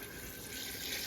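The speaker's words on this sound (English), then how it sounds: "now I'm just adding in some water" Water is poured steadily into a big pot holding chicken, peppers and seasonings, a constant close hissing splash with no break.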